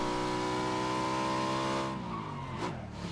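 A motorbike engine in a video game shooter, a steady loud whine with strong tonal harmonics that drops away near the end, heard alone without talk.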